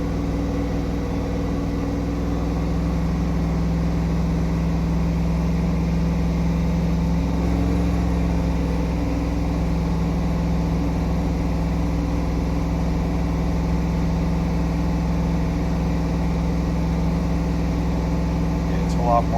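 A car engine with its catalytic converter being heated, revving up and then held at a steady speed, a continuous low hum lasting throughout at close range.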